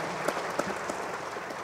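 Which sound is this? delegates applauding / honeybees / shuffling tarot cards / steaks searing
delegates applauding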